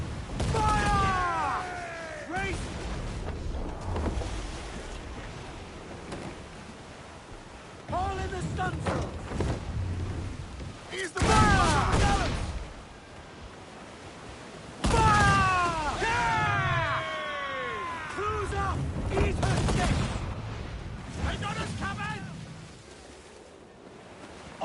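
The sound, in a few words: ship cannon fire in Assassin's Creed Black Flag video game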